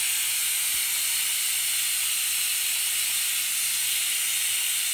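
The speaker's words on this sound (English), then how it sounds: "No matter which way you turn the valve, it still leaks." Steam hissing continuously from a leaking Instant Pot steam release valve, a loud, even, close-up hiss that never lets up, with no voices.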